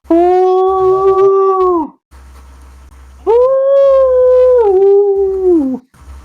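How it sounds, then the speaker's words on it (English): A howling sound effect plays during a tabletop role-playing game session: two long, loud, close canine howls, each rising and then sliding down in pitch, separated by a short pause and heard without talking. "you start hearing this howling, and it's getting closer"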